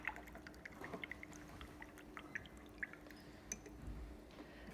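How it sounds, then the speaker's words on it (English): A paintbrush being rinsed in a pot of water while working in watercolour, with soft scattered drips and light splashes of liquid over a faint steady background. "I'm going to wash my brush."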